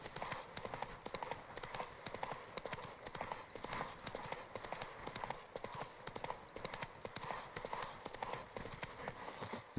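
Steady rapid clip-clop of the horse Roach galloping in The Witcher 3, hoofbeats continuous and close throughout, with faint background game ambience.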